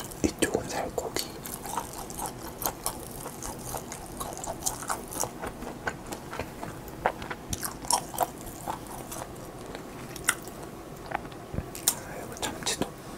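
Close-up chewing of German-style handmade ham with Hoegaarden beer, soft repeated wet bites and mastication in an irregular rhythm, with occasional quiet speech in between.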